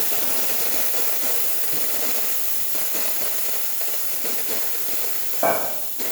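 Steady, loud hiss of a Saeco espresso machine's steam wand rushing continuously into a milk pitcher of water, with a brief sharper burst near the end.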